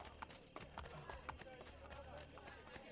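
Hooves clip-clop as horses ride slowly through a city street in Assassin's Creed Brotherhood, a steady uneven run of soft hoof beats over a low rumbling game background, faint and partly under talk.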